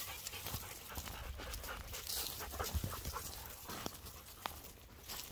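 A pack of dogs pants steadily throughout a walk. Soft, rapid breaths overlap with light footfalls and a few faint clicks, all fairly close.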